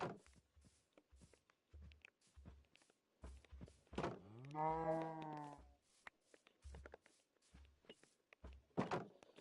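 A Minecraft cow gives one drawn-out, wavering moo in the middle, set among sparse thumps and footstep-like knocks in an otherwise quiet scene.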